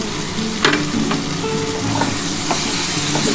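Spiced egg, potato and soybean curry stirred and frying in a pan, a steady sizzle with scraping stirring strokes throughout, close and without talk.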